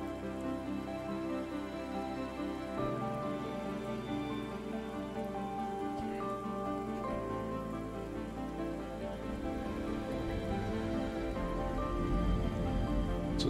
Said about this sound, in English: So toxic rain lasts for 16 hours.